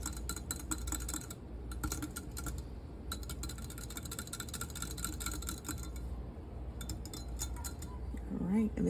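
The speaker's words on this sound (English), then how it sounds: "you just want to whisk this together." Warm milk and an egg whisked together in a bowl: fast, rhythmic clicking whisk strokes close up, with a brief pause and a low voice near the end.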